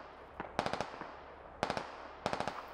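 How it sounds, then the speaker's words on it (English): Mortar rounds land in the military shooter game Squad, heard as three rapid bursts of sharp cracking blasts, each a cluster of quick reports, fairly loud and with no talking. "Looks like they're dropping mortars right there."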